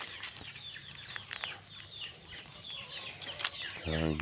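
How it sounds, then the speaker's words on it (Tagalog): Native chickens clucking nearby at a backyard coop, scattered soft clucks and a few wing flaps throughout, with a louder burst of calls toward the end over faint background talk. "mga native chicken."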